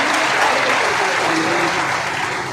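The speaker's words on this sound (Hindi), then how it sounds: "खड़ा हो जाइए, जोरदार ताली बजा के इनका स्वागत करिए।" Loud, sustained applause fills a hall as an audience at a party's national convention in Patna welcomes an adviser to the stage, a dense crowd clapping continuously with no pauses.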